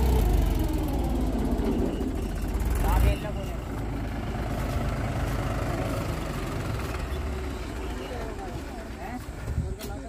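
A Mahindra 265 tractor engine idles with a steady low rumble, loud at first and then dropping slightly to an even chug, with a voice talking over it.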